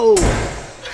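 An artificial lightning strike blasts a bonsai tree, a single sharp close bang that hits suddenly and decays over about half a second into a dull rumble.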